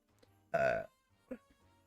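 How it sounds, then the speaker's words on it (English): A single voiced burp from a person livestreaming, a short low guttural belch lasting about a third of a second, followed by a fainter second burp-like sound and quiet room noise. "And I'm sorry if I'm burping."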